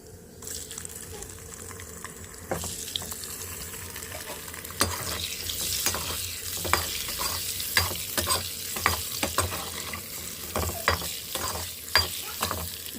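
Eggs with turmeric and chilli frying in a pan, a steady close sizzle broken by repeated sharp scrapes and stirs.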